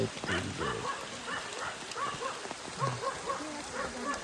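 Rain falls during a hike, pattering steadily on the ground and nearby surfaces, while a dog barks and yips intermittently close by and faint voices sit in the background.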